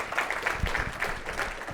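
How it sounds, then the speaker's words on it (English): Audience applause at a live talk event, moderately loud and sustained clapping from a crowd across the whole stretch, with no speech on top. "Let's give a round of applause"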